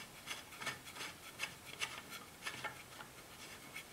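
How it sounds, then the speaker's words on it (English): A bolt being screwed into a nut on a homemade H-pattern shifter for sim racing gives off soft, irregular scraping and rasping taps, repeated several times, close and faint with no talking. "we screw the bolt till the end"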